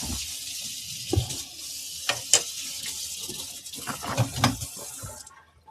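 Tap water runs steadily into a sink over a cast iron pan being rinsed, with splashes and a few clunks of the pan against metal before the flow cuts off.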